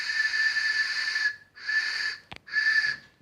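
Breathy, reedy whistle blown through a hollowed carrot, three sustained tones separated by short pauses, close and fairly soft, with a small click between the second and third blasts.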